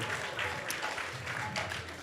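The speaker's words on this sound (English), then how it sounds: "So give him a big round of applause as well." Audience at a Krishna Katha gathering applauding together, a steady wash of many hands clapping at moderate volume with no voices standing out.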